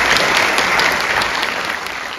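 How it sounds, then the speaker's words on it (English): Audience at a hometown banner ceremony applauds, dense continuous clapping from a crowd, loud and close, tapering slightly toward the end with no talk over it. "So a round of applause for those folks."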